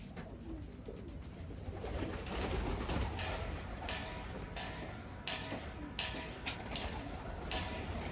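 Pigeons cooing in a coop in a steady low murmur, many birds close by, with faint ticking and rustling throughout.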